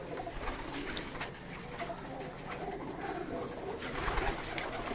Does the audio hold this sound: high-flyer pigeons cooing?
yes